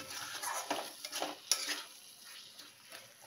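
Potatoes being sautéed and stirred in oil in a pan, with a soft steady sizzle broken by a few scraping stirs of a spoon, close and fairly quiet, no voices.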